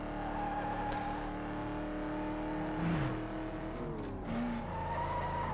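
A game car modeled on a Porsche Cayenne drives in Need for Speed: Most Wanted 2005 on PS2, its engine droning in steady tones that shift with gear changes, joined by a brief tire squeal near the end.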